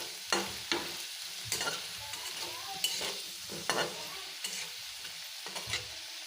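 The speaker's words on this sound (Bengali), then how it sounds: "দিয়া আমি কুচিয়ার মাংসটা এখন খুব ভালো করিয়া বাজবো" Eel meat frying in a pan with bay leaf and cumin, a steady hiss of oil broken by repeated scraping stirs at an irregular pace, close and fairly quiet, with no talking.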